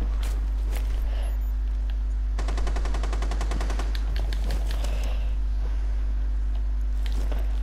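Rapid SMG fire in the shooter game Rainbow Six Siege breaks into a fast, sustained burst of evenly spaced shots in the middle, with scattered clicks and movement noises before and after.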